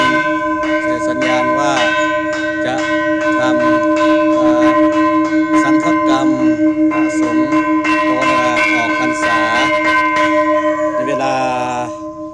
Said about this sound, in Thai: มีเสียงระฆังดัง